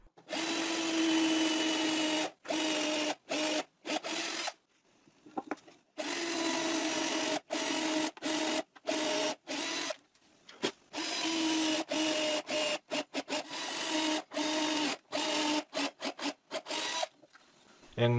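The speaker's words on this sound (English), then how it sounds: "I press the wooden block against the edge of the cabinet and I drill until the tape" Drill boring a hinge hole into the edge of a wooden cabinet with a wooden block pressed against it, a near, loud whirring grind in repeated bursts separated by short pauses.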